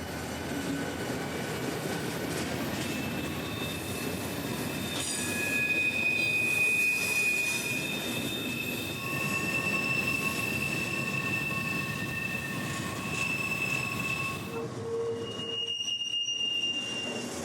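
A freight train carrying rock cars rolls past at Fort Pierce, Florida, with steady wheel rumble and long, loud metallic squeals from the wheels over the full passage, fading abruptly near the end.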